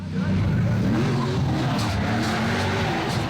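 Drift cars racing at a Formula Drift competition in Wall, New Jersey, engines roaring loud and continuous with tire squeal as two cars run close together through a banked turn.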